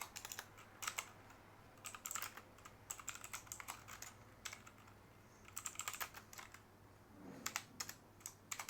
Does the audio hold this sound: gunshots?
no